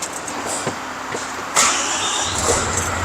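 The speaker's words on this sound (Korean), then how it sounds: "시동 한 번 걸어보겠습니다" A MAN refrigerated wing-body truck's diesel engine cranks briefly and catches, then settles into a steady, moderately loud idle recorded close by.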